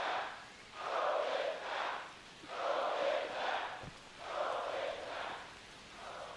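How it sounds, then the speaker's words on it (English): A virtual ballpark crowd in the MLB The Show baseball game chants for a home-run ball to be thrown back, in three loud rhythmic swells that rise and fall about every two seconds. "The crowd demanding to throw the ball back."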